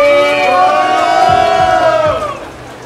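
At a rap battle, a crowd shouts and cheers loudly, with whoops and calls rising together and then fading off.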